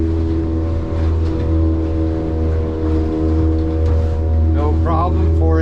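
A kicker motor pushes a 2023 Duckworth 24 Pac Nac hard top boat through swells at about five and a half, its low steady drone close and constant, with a voice briefly heard over it near the end.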